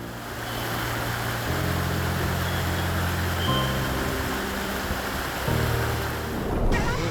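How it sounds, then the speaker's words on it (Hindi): Kosi river flowing right beside an ashram in hills, a steady broad rush of water running continuously, fairly close, with a low engine-like hum underneath and no talk. "ये कोसी नदी है"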